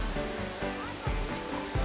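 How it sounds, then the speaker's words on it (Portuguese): River water pouring over a small waterfall, a steady rushing wash close by, with a person talking over it. "Olha o barulho da água, ó."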